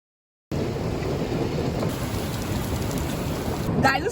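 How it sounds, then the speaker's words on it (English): Heavy rain pounding steadily on the roof of a van, a dense continuous roar heard from inside after a silent start. "it's raining cats and dogs"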